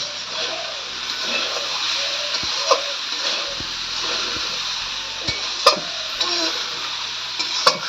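Spatula stirring jackfruit and shrimp curry in a pan, a steady broadband sizzle with scraping strokes and a few sharp clicks of the utensil against the pan, fairly close and continuous.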